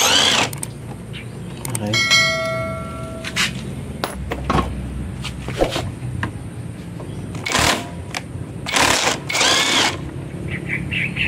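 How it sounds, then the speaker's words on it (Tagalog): An impact wrench removes the handlebar bar end from a Honda Click 125 V2 motorcycle, giving several short, loud rattling bursts between pauses while a person speaks briefly. "sa pagtatanggal ng ating bar end, kailangan natin gumamit ng impact wrench"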